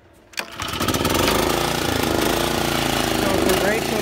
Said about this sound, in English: I'll start it up, it's gonna be loud